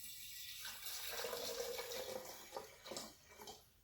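Water poured into wide-mouth jars holding tablespoons of seeds set to soak for sprouting, a faint continuous splashing stream over several seconds with small bursts near the end.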